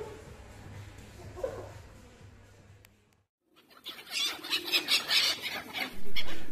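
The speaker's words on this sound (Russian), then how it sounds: "Только почему-то тут чаек больше, чем голубей." Gulls and pigeons gathered by a lake in Rostov Veliky, being fed bread on a summer evening, break into a busy burst of calls and squawks after a low hum and a brief lull, growing louder toward the end.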